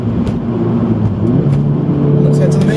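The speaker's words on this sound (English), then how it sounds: "all the drivers starting up their cars" Several tuned Audi S1 hatchbacks start up at a meet in Sheffield before a Peak District road trip, giving a loud, steady, close engine drone with a slight rise in revs toward the end.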